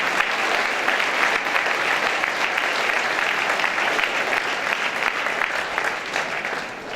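Audience applause after a kickboxing bout, a steady dense clapping that fills the whole stretch at close range, with no talk over it.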